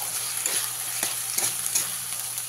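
Chopped medium tomatoes and spices sizzling in a pan, a close, steady frying hiss broken by several scraping stirs of a spoon, with no talking.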